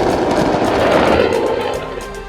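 Rapid, dense crackle of repeated blasts and bangs from a firecracker factory explosion, a continuous loud barrage with no clear gaps between reports.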